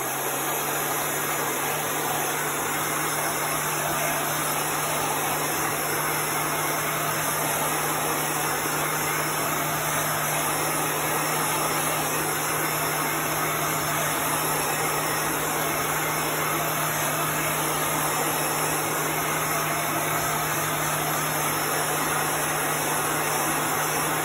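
A heat tool blows a steady, constant stream of air to dry chalk paste on a picture frame, a broadband whoosh with a low hum running unbroken and alone throughout.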